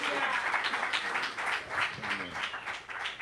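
A church congregation applauds to welcome a visiting pastor during a bilingual service, warm clapping that carries on under a voice speaking over it.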